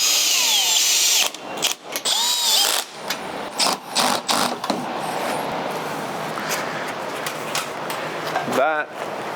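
Power tool tightening bolts on roof rack brackets for a Bush Company 270 XT awning on an ARB base rack, outdoors; several short bursts of drilling whir in uneven rhythm, close and fairly loud, then a long stretch of continuous mechanical noise.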